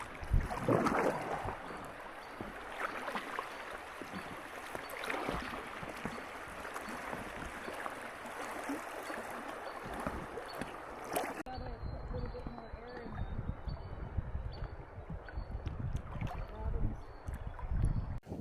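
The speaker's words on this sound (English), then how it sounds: "Last one, rapids." Packraft on the Pembina River in Alberta running rapids, with continuous rushing water and wind buffeting the microphone, rougher and louder splashing in the first part, then steadier churning water close by.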